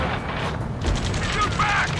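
Ace Combat 7 battle gunfire crackles in dense bursts beneath shouted radio-style voices, with a heavy boom near the middle and ongoing mechanical clatter.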